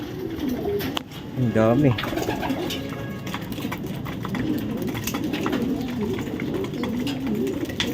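Racing pigeons coo in a loft, their soft rolling calls rising clearly around the second mark over a steady background of rustling, while someone speaks briefly.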